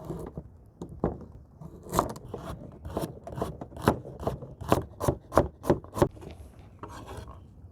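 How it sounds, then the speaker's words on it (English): Carrots, garlic and chili chopped on a board, a series of sharp knife strikes that start sparse and build into a quick run of close, crisp chops, then stop. "we just have our carrots, garlic, and chili that we're gonna chop up"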